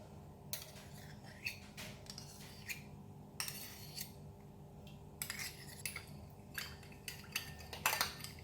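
Soy sauce, salt and oyster sauce being mixed together, heard as quiet scattered clinks and scrapes of a utensil against a bowl at close range, with no talking.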